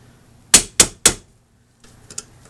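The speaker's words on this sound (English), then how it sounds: "tapping that with a screwdriver right in the middle, just a few times, just enough to get it to open up" Three sharp metallic taps of a screwdriver striking a rear brake part on a 2005 Toyota Corolla drum brake, evenly spaced and close, followed after a pause by a few fainter clinks.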